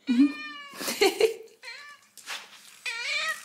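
A cat meows repeatedly and insistently indoors, loud and close, a series of drawn-out wavering cries with short pauses between them, no talk over it.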